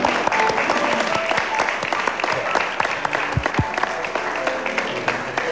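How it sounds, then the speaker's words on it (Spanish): A broadcast audience gives sustained applause for the international jury, a dense wash of many hands clapping with faint crowd murmur and a brief low thump partway through. "Quiero nombrarlos y que reciban el aplauso del público."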